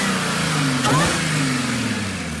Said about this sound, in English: I'm hoping to hear a good bit of supercharger whine